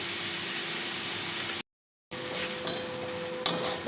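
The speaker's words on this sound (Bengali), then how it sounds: "ক্যাপসিকামটা অল্প পরিমাণে দিয়ে দেবো। হালকা করে একটুখানি নেড়ে নেবো।" Capsicum being stirred into chicken momo filling in a pan: a steady frying hiss with faint utensil scrapes and light clinks against the pan, broken by a brief silent gap and followed by a sharper clink.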